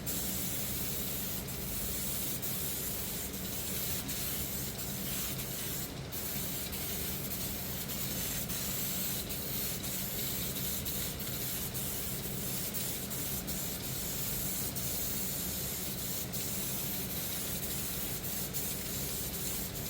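A spray gun lays a third wet coat of clear lacquer onto an imitation motorcycle body panel, giving a loud, steady, close hiss of atomized spray that runs continuously without a break.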